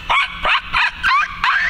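A pinscher dog barks five times in quick succession, close, loud and sharp, in an even rhythm with brief gaps, alone with no talking.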